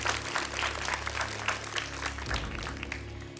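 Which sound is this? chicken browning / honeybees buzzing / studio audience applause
studio audience applause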